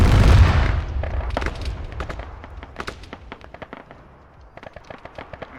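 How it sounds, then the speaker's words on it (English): A missile strike in Arma 3: a heavy booming blast opens, then a long tail of scattered crackling pops and distant secondary bangs that slowly thin out. "Missile just came in."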